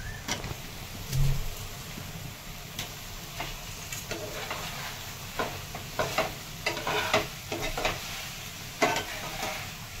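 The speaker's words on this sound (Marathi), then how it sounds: "आता यामध्ये मंचुरियन टाकून घेते" Manchurian balls are tossed and stir-fried in a hot pan, giving a steady sizzle with repeated scraping and stirring clatter of a utensil against the pan throughout, close and without talk.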